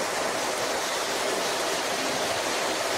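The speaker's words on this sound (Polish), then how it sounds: "A tu płynie woda, słuchajcie, no naprawdę." Water rushes steadily through a small overflow channel, a close, continuous broadband hiss and splash with no pauses or voices.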